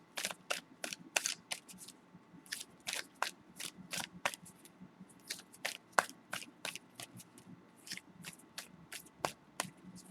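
Tarot cards are shuffled repeatedly, a fast run of crisp riffling bursts with brief pauses between, close and clear with no talking.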